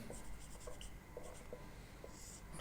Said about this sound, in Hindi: एक एक करके मैं लिखते जा रहा हूं।